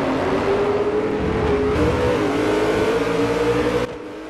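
A car in the racing game Forza Motorsport 4 accelerates, its engine whine rising steadily in pitch as it revs, loud and continuous before cutting off abruptly near the end.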